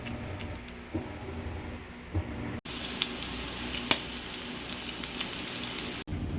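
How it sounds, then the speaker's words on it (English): A ground beef burger patty fries in a little olive oil, giving a loud, continuous close sizzle broken by a couple of brief dropouts and small clicks, with no talk. "I use a little tip of olive oil to do the frying"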